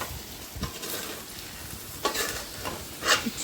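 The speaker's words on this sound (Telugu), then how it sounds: "అన్నీ ఈవెన్గా ఫ్రై అయ్యాక అందులోకి మంచిగా వాష్ చేసుకొని పెట్టుకున్న చికెన్ని వేసుకున్నాము" Washed chicken pieces fry with green chillies in a pan for chicken handi, with a soft steady sizzle under a few scraping stirs, close by and with no talking.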